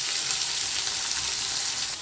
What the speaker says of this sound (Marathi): मस्त अशी फोडणी देऊन घ्यायची. भरपूर लसण घालायचा.